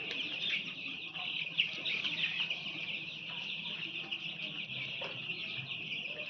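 Chickens cluck and chirp on a poultry farm, a faint continuous chorus of many birds in a quiet barn with occasional louder calls.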